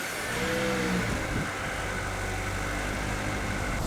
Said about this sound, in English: Can we just admire how quiet the engine is from a distance?